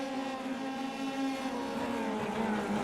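F3 race cars at speed on the Silverstone-style iRacing circuit, heard as a loud sustained high engine whine with layered harmonic tones that shift slightly in pitch, with no talking.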